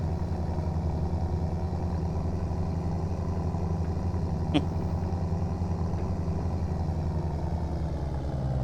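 In BeamNG.drive, a tractor engine chugs at a steady low idle-like drone while driving, a constant rumble close by with one brief clatter midway.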